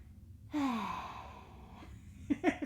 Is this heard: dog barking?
no